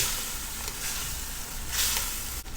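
All-purpose cream being stirred into chicken curry in a pan, giving a steady low sizzle and bubbling hiss with occasional soft scraping of the spoon, no talking.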